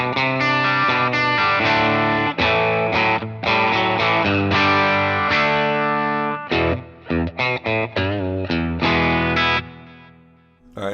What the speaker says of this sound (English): The last one is just the Dr. Z by itself